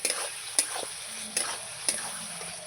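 Spice paste for a fish-head curry is stirred and fried in a pan under a steady sizzle, with a spatula knocking and scraping the pan several times at irregular intervals, close by and with no speech.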